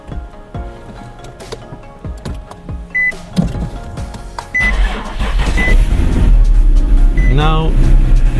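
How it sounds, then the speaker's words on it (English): An Infiniti G37 engine cranks, catches and settles into a loud, steady idle that stays close and dominant, with brief electronic chimes and a short voice partway through. "Now the car starts fine. Let me even start it for you,"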